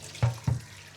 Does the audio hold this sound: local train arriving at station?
no